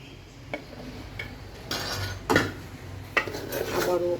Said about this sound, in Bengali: এখন আবারও কিছু সবজি দিয়ে দিচ্ছি